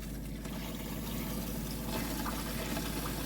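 Hot water runs steadily through a campervan's fresh water system, a faint continuous flow and trickle with a low hum beneath, unbroken and without talk.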